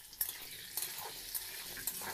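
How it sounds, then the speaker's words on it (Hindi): Potatoes fry in a pan for a jackfruit curry, with a steady soft sizzle broken by brief louder crackles and scrapes of stirring. No one speaks. "यहाँ पर आलू फ्राई हो रहा"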